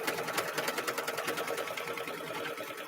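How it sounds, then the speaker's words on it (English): An embroidery sewing machine stitches out quilting in a meandering pattern, a steady rapid mechanical chatter with a fast, even rhythm and no voices. "So let's go ahead and stitch out that quilting."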